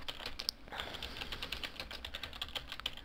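Fingers type a forum reply on a computer keyboard, producing a dense, irregular run of close, crisp key clicks with a brief pause near the start. No one speaks.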